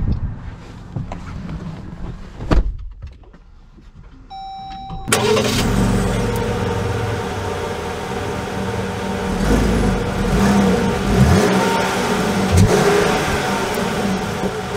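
A 2022 Jeep Grand Cherokee Trailhawk drives off, its engine revving up and settling into a steady mid-pitched drone with wind noise, after a quieter stretch with a brief electronic chime.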